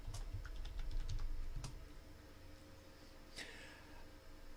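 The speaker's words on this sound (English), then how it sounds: "I'm typing this over in the host chat really quickly so that they know who I'm talking about." Quick, light clicking on a computer keyboard comes in a brief burst of keystrokes, then a few scattered taps against a quiet room hum.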